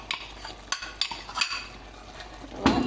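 A utensil scrapes and clinks against a pan in irregular strokes while pan-fried potato, onion and bell pepper are mixed with durda, faint sizzling underneath and a louder clatter at the end.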